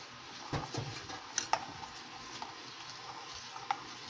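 A spoon stirs cooked milk in a pot for a China grass pudding, giving soft scraping and light clinks with a few sharper taps against the pot, close by, with no talk.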